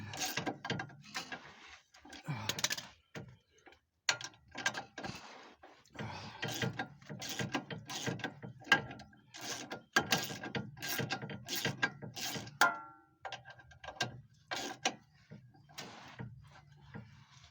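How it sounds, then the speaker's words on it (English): A Matco ratchet turns on the ball joint of a 2007 Pontiac Torrent, giving quiet, uneven bursts of clicking that start and stop between pauses, close by. "The ratchet I got in my hands, a Matco ratchet."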